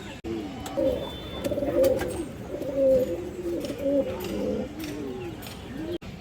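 Pigeons coo repeatedly in soft, rolling calls, close by and overlapping, with a few sharp clicks and light background noise.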